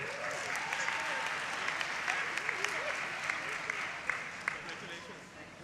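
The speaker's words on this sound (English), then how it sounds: "A round of applause for the Jump Start to College Pathway Scholars." An audience claps steadily and warmly for dual enrollment scholars at a recognition ceremony, a dense sustained applause with a few sharper claps, fading slightly at the close while faint voices sit beneath.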